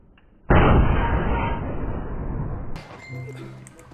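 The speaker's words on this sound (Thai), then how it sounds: "เสียงปืนเฮียนี่โคตรดังอ่ะ" A single loud gunshot in the video game DayZ bursts close and sharp, followed by a long decaying rumble, then faint clicks and a short synthetic tone.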